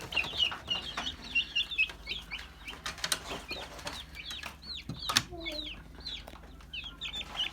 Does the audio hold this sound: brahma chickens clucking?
yes